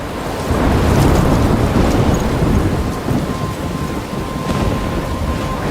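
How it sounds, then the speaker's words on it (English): Thunderstorm from the video game Life Is Strange: steady heavy rain with deep rolling thunder rumbling loudly throughout, no voices. "I'm trapped in a storm?"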